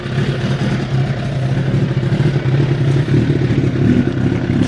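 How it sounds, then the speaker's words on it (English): A Suzuki Bandit 600 motorcycle fitted with a GR Moto motorway exhaust with its baffles removed revs up loudly close by, a rough, throaty engine note swelling and falling across the whole clip. "Should give the little GR motorway exhaust a little rev."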